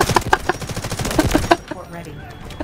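Rapid gunfire and explosive airstrike blasts from the Delta Force: Hawk Ops video game, a dense volley of sharp bursts for about a second and a half that then drops to a quieter rumbling tail, with voices underneath.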